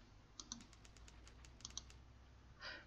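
Computer mouse clicks, a quick run of faint, crisp clicks in irregular clusters close to the microphone, with a quiet background and no talking.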